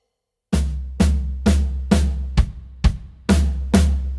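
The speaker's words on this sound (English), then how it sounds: "A double hit is when you play 2 drums simultaneously, so the snare and the floor tom played together" Drum fill of eight evenly spaced hits, each a snare and floor tom struck together, with the last few coming slightly quicker. The hits are loud and close, each with a boomy low ring, and no one talks.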